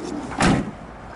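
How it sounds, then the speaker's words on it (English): Double rear doors of a 2018 Vauxhall Vivaro 2900 1.6 CDTi L2 H1 Sportive van give one solid thud near the middle of the clip, with low background noise before and after. "easy access to low bay area via the double rear opening doors"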